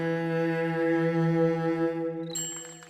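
A single sustained musical note, a whole note held for four beats, rings steadily for over two seconds, unbroken, before a new note strikes near the end.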